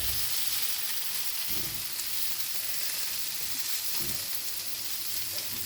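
Carrots sautéing in a pan for a cheese and vegetable spring roll filling, a steady soft sizzle with two brief bursts of stirring, and no one speaking.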